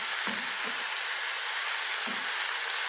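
Steady sizzling of mushrooms stir-frying in a hot pan, with a few soft scraping stirs; no one speaks.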